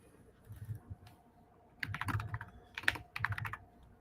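Quiet typing on a computer keyboard comes in irregular bursts of soft clicks and taps, with a pause between flurries, close and without talk.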